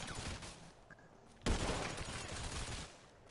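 A burst of rapid gunfire from a shooting video game crackles in a dense fusillade, rising sharply midway and continuing as steady overlapping shots, fairly faint and without talk.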